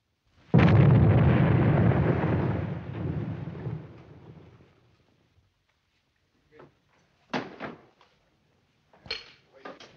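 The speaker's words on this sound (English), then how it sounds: "Firing that cannon won't do any good." A cannon fires over a river, one heavy booming blast that rolls and decays for several seconds, followed by a few distant knocks and thumps; the scene is from a 1940s film soundtrack.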